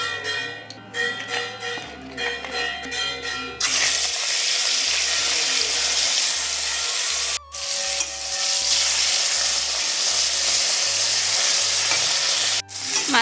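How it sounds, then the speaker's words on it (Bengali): Fish head rubbed with salt and turmeric frying in mustard oil in a wok, a loud steady sizzle that swells after a few seconds and carries on with brief breaks, with faint stirring sounds and no talk. "মাছের মাথা ভাজা হয়ে গেছে এবার এটা তুলে নিচ্ছি"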